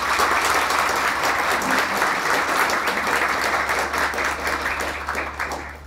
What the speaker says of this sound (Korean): 박수로 함께 시작을 하도록 하겠습니다.